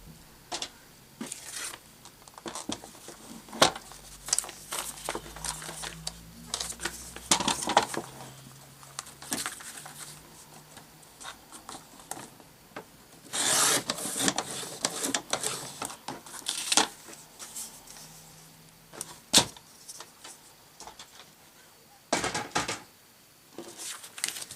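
A paper trimmer slices through craft paper for a shabby lace paper book: a series of sharp cutting strokes and scrapes, some in quick bursts, others spaced apart, heard up close with no talk.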